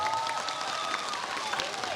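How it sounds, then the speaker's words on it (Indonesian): Applause from a large crowd of Islamic boarding school students at a sermon, a dense continuous wash of clapping with a few voices mixed in, steady throughout. "Tepuk tangan buat perempuan."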